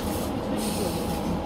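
A slow passenger train runs on the line toward Hawkesbury River, a steady rumble of wheels and carriage noise heard from inside, continuous with no voices.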